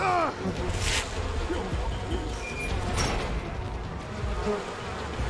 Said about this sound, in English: Can't even get away from the bleeding bees.